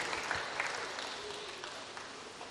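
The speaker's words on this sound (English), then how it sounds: "Please, another round of applause for the keynote speaker." Applause from a conference audience for the keynote speaker at a national conference: a steady wash of many hands clapping throughout, fairly even in loudness with no voices rising above it.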